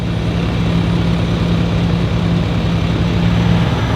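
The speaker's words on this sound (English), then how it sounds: "that looks more like a properly operating diesel heater" A diesel heater runs inside a camper van on a winter Arctic trip, giving a steady, close, droning hum with a low tonal whine and broadband rush, unchanging throughout with no voices.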